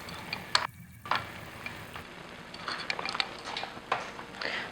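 Green beans with hoisin sauce and brown sugar sizzle softly in a pan as they are mixed around, with a faint steady fry broken by scattered spatula scrapes and sticky stirring sounds, close and quiet, no voices.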